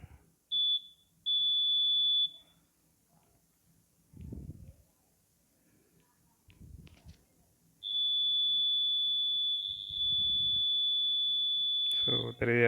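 A motion or obstacle detector sounds a high electronic tone in two short bursts when an obstacle blocks its transmitter and receiver, then a long steady beep, with low thumps and a brief voice in between.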